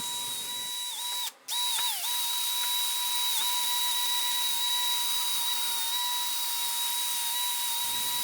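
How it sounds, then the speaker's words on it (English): A drill spins a wire wheel on a black walnut slab with a constant high whine and gritty hiss, pausing briefly near the start. "Using a wire wheel on the drill here"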